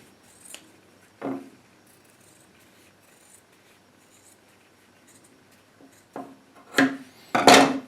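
Scissors trimming leather for a drawstring bag, a few short sharp snips separated by quiet pauses, close and fairly soft, with a cluster of cuts near the end.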